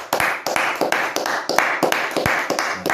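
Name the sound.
congregation applauding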